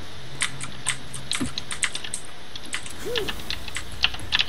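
Rapid clicking of computer keyboard keys typing in quick bursts, heard over a steady background of game sounds during a Team Fortress 2 Mann vs. Machine match on the Normandy map.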